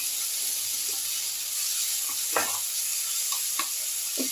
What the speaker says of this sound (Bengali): সর্ষের পেস্টটা দিয়ে আমি একটু নাড়াচাড়া করছি।